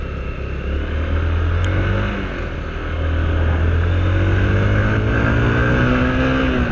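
A vehicle speeds along a road on a holiday homecoming trip: a loud, steady engine drone and road roar, close and continuous, swelling slightly as it picks up speed, with no talking.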